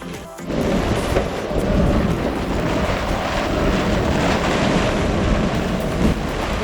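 A thunderstorm with heavy rain and strong wind howling over a sailboat riding at anchor, a loud, dense and steady roar of wind and downpour with rumbling low thunder throughout, no voices.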